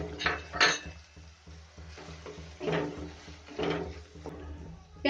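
Onions tipped into a pan and stirred for a spiced potato masala, with close clatters and scrapes of a utensil against the cookware in short irregular bursts and no talking.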